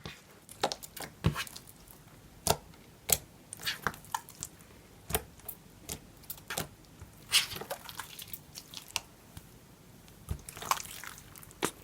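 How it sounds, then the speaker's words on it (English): Activated homemade budget slime squished and pressed by hand, producing soft wet clicks, pops and sloshy squelches in an irregular rhythm, close up and quiet with no talking. "So this is some slime ASMR of once it's activated."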